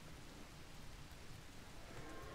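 Soft, continuous rainfall in Dead Island Riptide, a quiet broadband hiss of drops with a faint low rumble beneath, unbroken and without speech.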